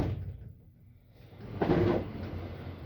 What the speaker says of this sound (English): These closet doors are aluminum.